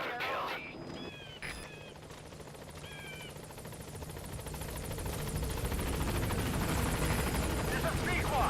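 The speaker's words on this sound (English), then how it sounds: "I'll send the extraction chopper." Extraction helicopter arriving in Metal Gear Solid V, a broad rotor and engine roar building steadily louder over several seconds, with short radio chirps and voices talking early on.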